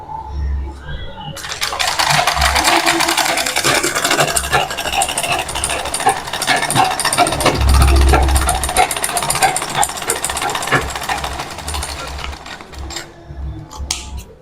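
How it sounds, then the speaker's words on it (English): A sewing machine stitches a straight seam, a continuous loud mechanical whirr with a low rhythmic thump that runs nearly the whole time, then winds down at the end. "So I have made my first straight stitch."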